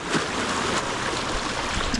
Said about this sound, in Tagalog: Ito ko napahampas sa alon